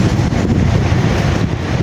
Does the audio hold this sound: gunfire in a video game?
no